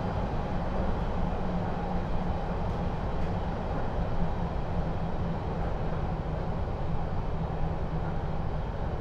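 A London Underground Metropolitan Line all-stations train between Amersham and Baker Street runs steadily, its loud, continuous rumble and rolling wheel noise filling the carriage without break or voices.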